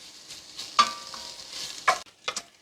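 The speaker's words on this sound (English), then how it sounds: "you're going to add in 6 slices of chopped bacon. And you're going to let that cook up until it's nice and brown." Six slices of chopped bacon fry and brown in a pot, with a soft, steady sizzle broken by a few sharp stirring scrapes and clinks.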